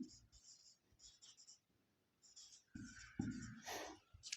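Pen scratching on paper while labelling the chambers of a heart diagram, in short strokes close by with brief pauses between them and speech-like sound in parts of the clip.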